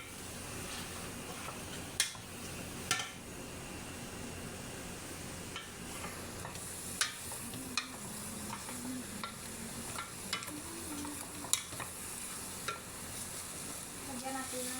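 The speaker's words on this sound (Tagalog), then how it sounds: "Gisa-gisa natin ng konti." Ingredients are sautéed in a pan with a constant low sizzle, broken by a string of sharp utensil clinks and scrapes against the pan at irregular intervals.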